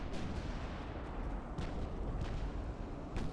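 Warship artillery fires during a naval battle in the Ultimate Admiral: Dreadnoughts video game, with dull booms rolling over a dense, continuous rumble of distant gunfire.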